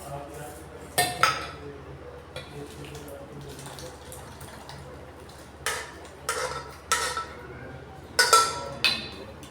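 A potato and onion curry is tipped out of a metal pan with a few bright clinks and scrapes of spoon and pan over a quiet background, several of them bunched near the end.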